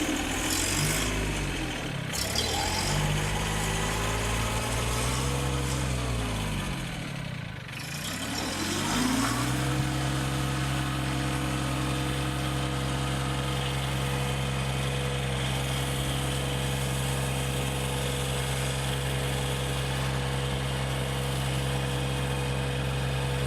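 A backhoe's diesel engine runs steadily and close by, revving and dipping in pitch early on before settling into a constant low idle rumble with no talk over it.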